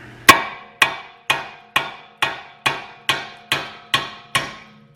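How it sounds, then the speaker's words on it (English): A small hammer taps the splined bolts through a CV axle hub on a Chevy Equinox, ten sharp metallic ringing strikes at an even, unhurried rhythm, each decaying before the next. "get a small hammer and you can tap them"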